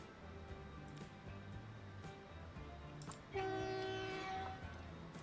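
A train in Transport Fever 2 rumbles along with low rolling noise and faint clatter, then sounds a loud, sustained horn blast partway through before the rumble continues.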